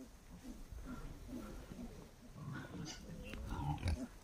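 A wild boar sow and her litter of striped piglets make soft, repeated grunts and snuffles at close range, rising to louder squeals and grunts near the end.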